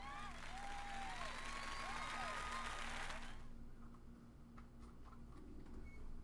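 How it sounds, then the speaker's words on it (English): Video game crowd applause and cheering with music play for about three seconds, then cut off abruptly, leaving a quiet electronic hum and faint ticks. "Once more, please give a big round of applause for our talented participants."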